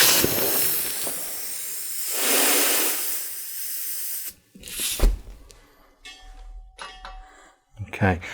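Gas hissing steadily as a foil-free bubble balloon is inflated, a continuous broadband rush lasting about four seconds, followed by softer rustling, clicks and handling noises with brief talk.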